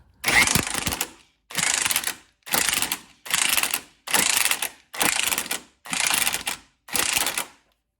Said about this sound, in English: And now you can just get the screw back in